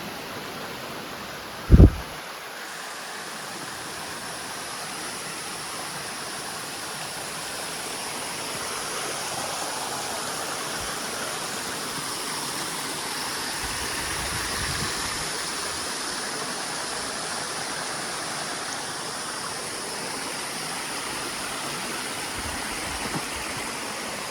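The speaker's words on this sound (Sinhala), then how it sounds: "අපිට මෙතන හම්බ වෙනවා නකල් සැල්ල හදන වතුර පාර" A mountain stream feeding the Knuckles river in Sri Lanka's Knuckles range rushes steadily nearby, an even broadband water roar with one sharp click near the start and no voices.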